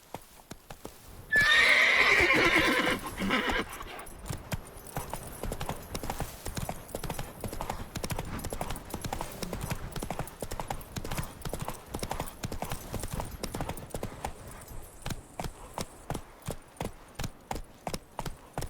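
A horse in the video game The Witcher 3 gives a loud whinny, then gallops with steady, rhythmic hoofbeats that continue at an even pace; a voice speaks briefly.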